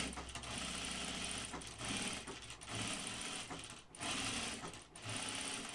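A sewing machine runs in steady bursts, stitching a seam on a Blanca flight suit; the close, continuous motor whir pauses briefly between runs, with no talking.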